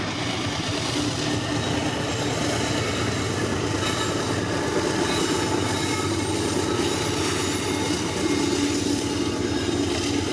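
A freight train with a DPU locomotive rolls past close by, a loud and continuous rumble of wheels and cars with faint squeals, and it stays steady throughout with no voices.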